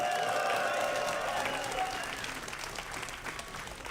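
A live esports crowd at a DreamHack StarCraft tournament applauds and cheers in a dense, continuous roar that gradually fades, with a commentator's voice over it.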